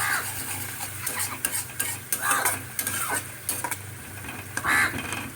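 A spoon stirs Kashmiri chili paste mixed with water into a sizzling tilapia curry with tomato, giving repeated scraping and clinking strokes against the pan over a constant low frying hiss.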